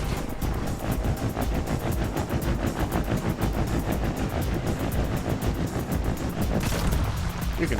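Rapid gunfire and bombing in the vehicle-building game Trailmakers, a dense, loud stream of evenly spaced shots with rumbling booms underneath, continuous throughout.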